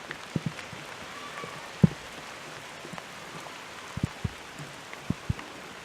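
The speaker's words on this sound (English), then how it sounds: "It's raining a lot now." Heavy rain falls at a railway station on the East Coast Main Line at Hadley Wood, a steady patter with scattered nearby drips and drops landing on surfaces.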